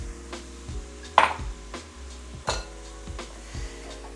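Meat tossed and mixed in a pan for a quiche base: a few close clanks and scrapes of a utensil against the pan over a low background hum, with no talking.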